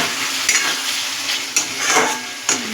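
Masala gravy for soybean and egg curry sizzles steadily in oil in a pan while a spoon stirs it, giving a few distinct scraping clinks over the frying.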